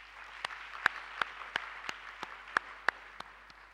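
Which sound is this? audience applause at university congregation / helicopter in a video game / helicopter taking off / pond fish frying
audience applause at university congregation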